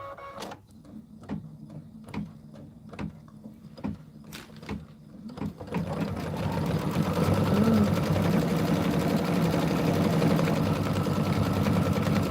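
Embroidery machine working a satin stitch on a red quilt-block section, starting with a few sharp separate clicks, then settling at about six seconds into a loud, continuous, dense mechanical whir.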